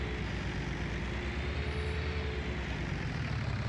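A small tractor's engine in Farming Simulator 19 drones at a steady, low idle-like rumble, with no other sounds present.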